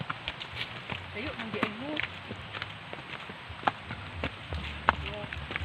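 Horse hooves clip-clop unevenly on the ground nearby, mixed with outdoor rustling while people talk quietly over them.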